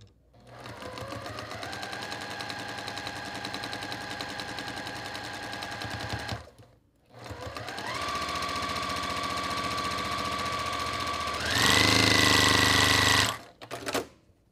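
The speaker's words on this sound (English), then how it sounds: "So I'm gonna sew this one and then I'm gonna stay at the sewing machine" Electric sewing machine running in long steady bursts while stitching a quilt block seam, with short pauses between runs and a faster, louder final stretch; no talking over it.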